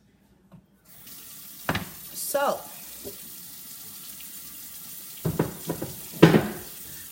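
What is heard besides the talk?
water running from a sink tap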